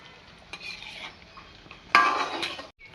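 A utensil stirs Bengali egg korma in a pot, soft scraping at first, then a louder burst of clinking against metal and a brief sizzle before it stops abruptly.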